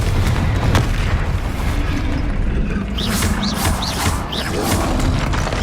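Confringo fire spell blasting in the Hogwarts Legacy video game, heard as a dense, loud rumbling burst with sustained crackle and several short whooshing spell sounds toward the end.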